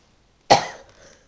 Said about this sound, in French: et si je tousse